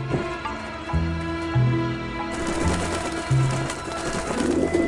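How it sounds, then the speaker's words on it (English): Pigeons cooing in the video game Grim Fandango, several low repeated coos in overlapping rhythmic phrases over a steady ambient game background, close and clear. "I don't like the looks of those pigeons. They're everywhere."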